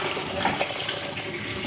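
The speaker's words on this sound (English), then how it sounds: "Add water, warm water." Warm water poured into a cooking pot while ogbono soup is being made: a steady splashing pour that runs for a moment with no voices.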